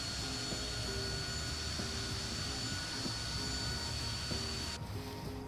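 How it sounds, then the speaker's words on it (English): Engine number 1 of an aircraft in a flight simulator game runs with a constant jet whine and hum, steady and loud throughout, with no talking. "Engine number 1 is running."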